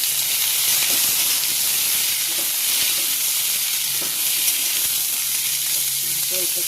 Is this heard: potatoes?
yes